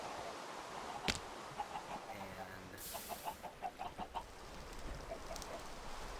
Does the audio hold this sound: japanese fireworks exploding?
no